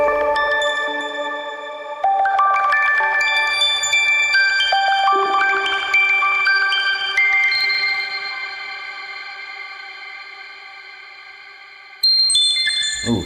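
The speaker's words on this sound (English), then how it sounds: "this was a sound that I had kind of made earlier with a little help from some plugins" Synthesized tones from Refractions and Supermassive effect plugins ring out as stacked, shimmering electronic notes that step upward and sustain with echoing reverb tails, fading slowly before a bright new burst near the end.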